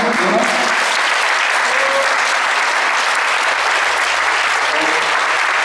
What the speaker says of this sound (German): Ein riesen Applaus für die beteiligten Künstler nochmal